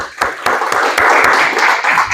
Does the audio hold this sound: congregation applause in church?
yes